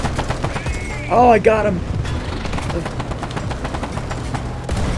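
Video game gunfire crackles in short rapid bursts near the mix, mixed with a brief swooping effect, while a player talks over it.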